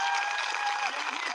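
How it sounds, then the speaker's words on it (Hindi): Audience applause at a live outdoor gathering in Lucknow's Eco Garden, clapping for UP police officers standing guard; a dense, steady wash of hands, moderately distant and even throughout, with no voices standing out. "एक बार इनके लिए ताली आप लोग बजा दीजिए"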